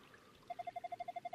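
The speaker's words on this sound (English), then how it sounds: "Reg filled the sacred cup with well water." Water poured into a sacred cup in the game Ys II, rendered as a soft run of about ten evenly spaced, identical tonal blips, quiet and alone.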